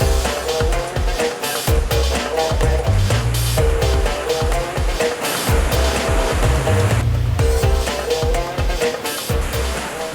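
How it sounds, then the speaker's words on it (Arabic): Rushing water roars loudly and continuously at the Zalm waterfall, fed by the Zalm river descending from the Hawraman mountains in Kurdistan, a dense broadband wash close by with music playing over it. "وصلنا إلى شلالة زلم"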